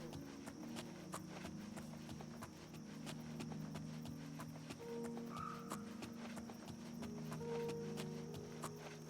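Horse hooves clip-clopping in the video game Oblivion Remastered, a steady walking rhythm under game music and ambient tones, with no talk.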